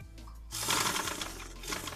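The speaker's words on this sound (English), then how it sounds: "I'll just sew straight." A sewing machine stitches a straight seam on a dress with a quick, steady mechanical whirring and needle chatter, close and fairly quiet.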